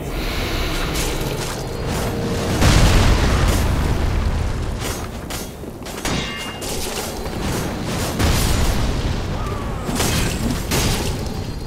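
Ballista bolts fire and burst in Dark Souls 3 near the Curse-Rotted Greatwood, with booming explosions at irregular intervals over a dense, rumbling battle din and no talk.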